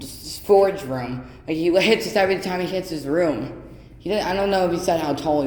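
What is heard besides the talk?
No everyday noise stands out behind the speech.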